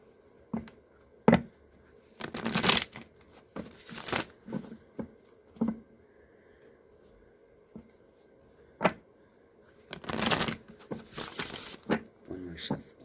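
Tarot cards are shuffled in several crisp, riffling bursts spread through the clip, separated by softer taps and handling noises, close and fairly quiet.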